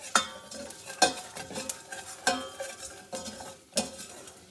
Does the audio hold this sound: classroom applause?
no